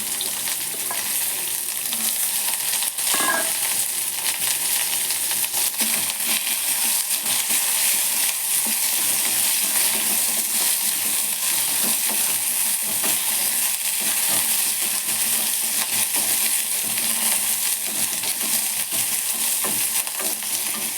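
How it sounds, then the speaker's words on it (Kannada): Mustard seeds sizzle in hot oil for a Kannada-style tempering, a steady dense crackle and hiss running the whole time with a few faint pops and stirring scrapes, close and alone. "ಕಾಳಿಗೆ ಒಗ್ಗರಣೆ ಹಾಕ್ತಾಯಿದ್ದೀನಿ ಎಣ್ಣೆ ಸಾಸಿವೆ ಹಾಕಿದ್ದೀನಿ"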